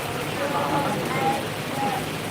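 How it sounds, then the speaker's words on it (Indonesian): Rain falls steadily outdoors around a bull-racing event in Sumenep, a dense, even hiss under a constant wash of background noise, with a few faint tonal squeaks over it. "Iya hujan."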